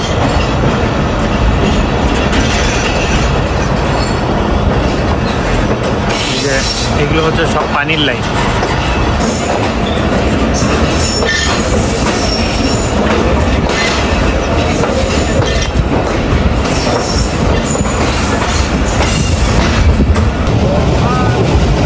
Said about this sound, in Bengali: খানেওয়াল থেকে ছেড়ে যাচ্ছে আমাদের ট্রেন।